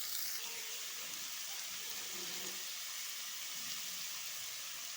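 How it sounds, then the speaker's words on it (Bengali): Cucumber curry frying in a pan while being stirred, a steady soft sizzle and hiss throughout with faint scraping, close and moderately quiet. "এবার একটু নাড়াচাড়া করে নেব"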